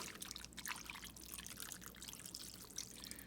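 Water poured into a Rapid Ramen cooker while topping it up to the fill line: a steady, soft splashing trickle that runs evenly throughout at close range, with no talking.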